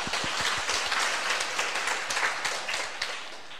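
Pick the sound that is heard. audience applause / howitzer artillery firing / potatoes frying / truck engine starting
audience applause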